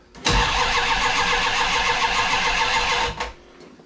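A Plymouth Cuda's engine cranks loudly and steadily for about three seconds, trying to start without catching, then stops abruptly and leaves a quiet tail.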